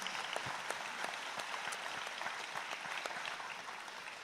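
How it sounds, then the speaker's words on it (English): A crowd at the Ohio State Fair Sale of Champions claps steadily and warmly, a dense patter of many hands that stays even for several seconds without any voices over it. "Always get a round of applause."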